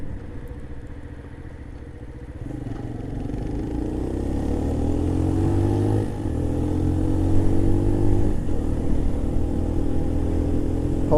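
A Keeway RKV 125 motorcycle being ridden, a steady mid-pitched engine hum that swells and eases as the throttle changes, continuous and fairly close.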